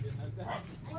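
A two-month-old puppy named Toto lets out a brief whimpering yip while a person speaks over it, all within about a second.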